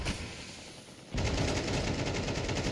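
Dense gunfire in a Counter-Strike 2 match, a dull stretch that abruptly bursts into loud, continuous rapid shooting with crackling rounds overlapping for the rest of the moment.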